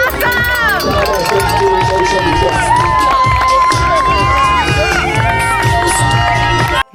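A loud crowd cheers and shouts for runners at the Oak Island Marathon, with whoops and excited voices over steady music, close and continuous until a sudden cutoff near the end.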